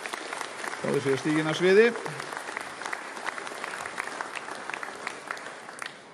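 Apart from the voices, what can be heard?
audience applause after a performance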